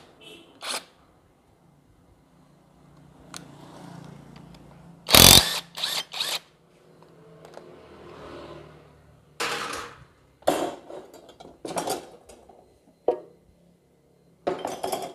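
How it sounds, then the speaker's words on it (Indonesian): A 17 mm wrench works the crankshaft pulley bolt on a Suzuki Katana engine during a teardown, giving scattered metallic clanks, ratcheting and sharp clinks between quiet pauses, with one loud harsh burst in the middle. "Kita mulai untuk membuka baut di bagian askruk atau puli askruk."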